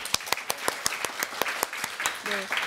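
Audience applause at a book concert lecture, a steady run of fairly close, rhythmic hand claps filling the whole moment, with a brief voice or tone slipping in near the end.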